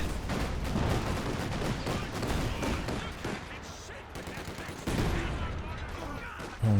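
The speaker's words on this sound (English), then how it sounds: "nice bundle grenade" Company of Heroes 2 skirmish with dense overlapping gunfire and explosions, including a bundle grenade blast, sustained and loud, with a voice talking over the battle.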